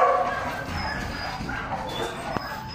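Barks and whimpers from a large K9 unit dog come from a moderate distance, loose and irregular over a murmur of background activity.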